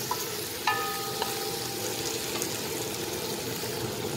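Chicken adobo sizzling in a hot pan as the marinade sauce is poured in, a steady close frying hiss with a few faint clinks, no voices.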